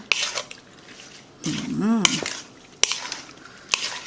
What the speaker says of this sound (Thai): แล้วก็ คลุกเคล้าก่อนหนึ่งรอบนะคะ